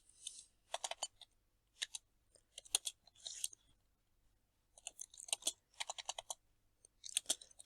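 Fingers tapping number keys on a calculator in short bursts of quick plastic clicks separated by brief pauses, close and fairly quiet, with no talking.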